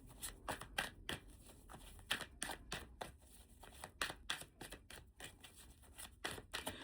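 Tarot cards are shuffled and drawn in a steady, rhythmic run of quiet, crisp papery riffles and snaps that repeats throughout, with no talking.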